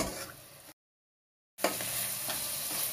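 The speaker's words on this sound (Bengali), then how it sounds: "এখন আমি মশলাটারে ভালো করে কষায় নিব।" Spice paste is stir-fried in hot oil for a Chittagong-style beef and radish dish, giving a close, steady sizzle with scraping stirs, cut by a brief silent gap before resuming.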